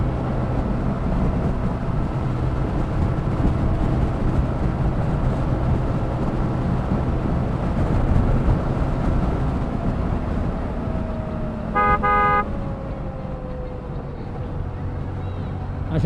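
Road traffic builds up at the entry to Bogura city during a motorcycle ride. Steady engine and road rumble fill the scene, with one short car horn blast near the end and a voice partly audible.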